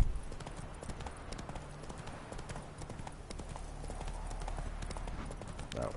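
Horse hooves clip-clop at a steady walking rhythm in The Witcher 3 video game, fairly faint, with a low background rumble of game ambience.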